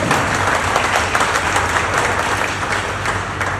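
Audience at a campaign launch event on stage gives a sustained round of applause, dense clapping heard up close throughout with no speech.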